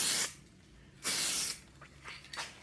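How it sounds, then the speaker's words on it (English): Close bursts of aerosol spray paint hiss onto a Chevy Silverado truck tailgate in short sprays: a brief one, a longer blast, then a few quick shorter spurts. "Here's the tailgate spray."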